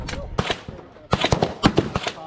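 Black Ace tactical shotgun fired at an outdoor shooting range: several sharp, loud blasts in uneven succession, two early and a tighter cluster near the end, with faint voices in between.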